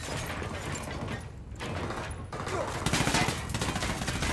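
Rapid gunfire in the video game Ghost Recon Wildlands, with dense bursts and mechanical clatter that grow louder toward the end and stay fairly close and steady.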